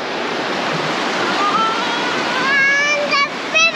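The Yuba River near Nevada City flows as a loud, continuous rush of water, while a voice speaks over it near the end.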